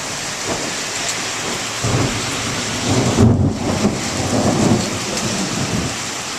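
A summer thunderstorm fills the air with steady heavy rain on surfaces as a deep thunder rumble swells through the middle and slowly fades.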